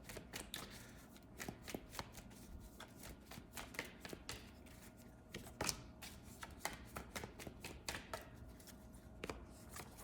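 Tarot cards shuffled steadily by hand for about ten seconds, a dense run of crisp riffling flicks and soft taps close to the listener, with no talking.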